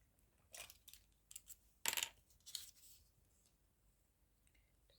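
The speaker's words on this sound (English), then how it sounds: "let's do a bit of fussy cutting" Scissors fussy cutting a paper printable for a craft project, with a few short, crisp snips and rustles of paper heard close and quiet, and no talking.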